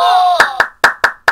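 Several sharp hand claps in an uneven run, five distinct smacks over a little more than a second, loud and close. A held sung or voiced tone comes before them.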